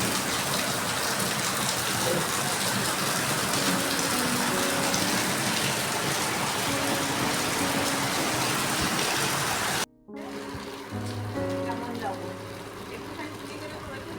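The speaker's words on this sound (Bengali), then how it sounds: "আর বাইরেটা দেখুন প্রচুর বৃষ্টি এসছে" Heavy rain pours down outside, a dense, steady hiss of drops on surfaces that holds loud for about ten seconds before cutting to a quieter indoor stretch where the rain continues faintly with a voice speaking.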